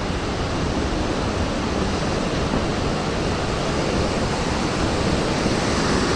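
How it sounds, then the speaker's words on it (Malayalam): A waterfall along a bamboo trek spills over rocks into a bathing pool, making a steady, even roar of rushing water that fills the scene without pause and with no talking. "നല്ല വെള്ളച്ചാട്ടം കാര്യങ്ങളൊക്കെ ഉണ്ട്."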